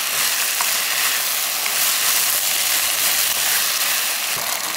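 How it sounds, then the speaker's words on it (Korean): Potatoes are stir-fried with jjajang sauce in a pan, giving a loud, steady, close-up sizzle with faint scraping and stirring clicks throughout. "이렇게 볶고 있지만"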